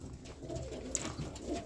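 Roller pigeons in a kit box coo softly at close range, a low steady murmur of overlapping coos with no voices.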